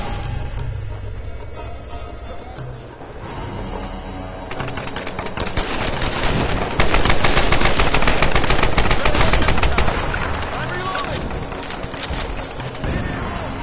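Sustained machine-gun fire crackles in Tomb Raider multiplayer, growing denser and louder midway, with rapid bursts over a busy game soundscape with chirping bird-like effects.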